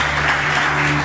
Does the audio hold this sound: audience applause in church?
yes